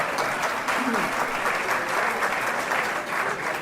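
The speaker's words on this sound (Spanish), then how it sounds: "Un aplauso, claro" An audience at a talk on criminal profiling applauds steadily, a continuous wash of many hands heard from a moderate distance, with some voices mixed in under it.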